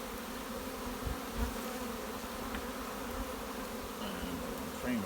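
Honeybees drone in a steady, dense buzz around a hive being split, a continuous close hum with occasional louder passes of individual bees near the listener.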